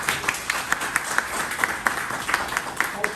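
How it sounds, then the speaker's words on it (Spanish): An audience claps in applause for a bass-playing student musician at a talk, a steady patter of many hands with regular sharper claps, moderately loud and continuous. "Un aplauso para él."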